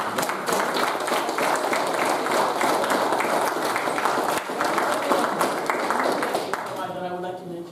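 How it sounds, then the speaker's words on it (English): A lecture audience at a geology talk claps in sustained, lively applause for about seven seconds before a voice begins speaking as the clapping fades. "So let's give a second round of applause to Steve."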